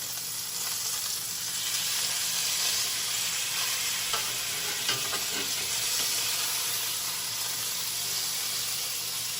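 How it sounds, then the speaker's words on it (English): Steaks frying in a hot pan just after being flipped, a steady close sizzle and hiss with a few faint clinks, no talking. "it's been about 3 minutes and time to turn our steaks over"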